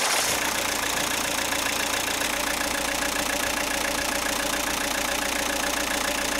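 A car engine idles steadily during a no-dismantling check of its mass air flow sensor. The running drone is even and continuous, with no voices.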